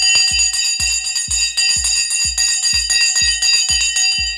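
A stock market opening bell rings in a rapid, steady series of about a dozen loud metallic strikes, each with a sharp thump and a sustained ringing tone, with no talk.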